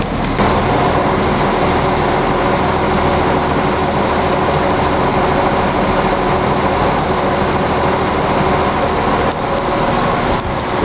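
Express train number 4010 pulls into a station in Northern Ireland, a loud, steady rumble of wheels and engine that fills the whole stretch without letting up, with no voices.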